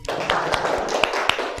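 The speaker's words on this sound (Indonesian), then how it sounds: "tepuk tangan dulu" Classroom students clap together in a quick, rhythmic pattern of sharp, fairly loud slaps, close by and roughly evenly spaced over a brief stretch.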